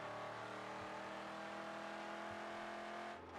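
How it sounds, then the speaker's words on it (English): A car engine drones loud and steady throughout, a sustained motor roar with slight pitch shifts as if driving, dropping away briefly right at the end. "the car noises are topping out"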